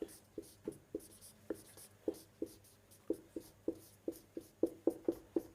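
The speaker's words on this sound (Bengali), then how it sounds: "তাই জন্য আমি লিখে দিচ্ছি বেসিস অফ ক্লাসিফিকেশন" A pen or marker writes out a title for a biology lesson on animal classification, giving a steady series of short, close scratchy strokes with brief pauses between words, heard alone without talk.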